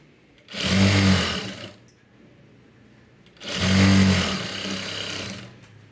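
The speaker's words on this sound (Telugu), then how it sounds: "ఇప్పుడు టాప్ స్టిచ్ అయితే వేసేసుకుందాం దీని మీద పడేటట్టు వేసుకోండి" A sewing machine runs two top-stitching passes on fabric, each a steady rapid whirring burst of about a second and a half, separated by a quiet pause with a small click.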